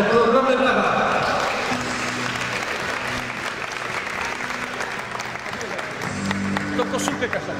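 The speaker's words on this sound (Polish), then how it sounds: "Ogromne brawa." Audience applause after a lot is sold at a charity auction of star memorabilia in Łowicz, a steady, fairly loud ovation lasting several seconds, with voices and crowd murmur mixed in underneath.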